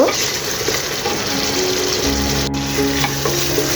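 Spice masala with soy sauce is sautéed in a pan while preparing tripe, giving a dense, continuous sizzling hiss with faint stirring movement throughout, fairly loud and close.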